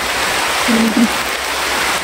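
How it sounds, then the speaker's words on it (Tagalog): Heavy rain pouring in a dense, steady hiss that fills the whole span evenly, loud and close, with a faint low murmur briefly rising beneath it. "Grabe yung ulan eh. Lakas ng ulan."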